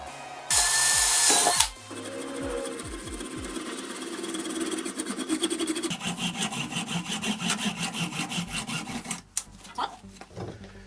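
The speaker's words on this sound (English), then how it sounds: "I'm going to be drilling through some polycarbonate and PVC" A drill whines and grinds through polycarbonate and PVC, with a burst of loud noise at the start and rhythmic rasping as it bores in.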